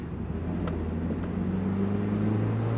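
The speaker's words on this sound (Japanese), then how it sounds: "ここからは車の音だけをお楽しみください" Steady engine drone from a Honda CR-Z Mugen RZ with a six-speed manual gearbox, cruising on an unfamiliar road, heard from inside the cabin as a low, continuous hum with faint tonal harmonics and no talk.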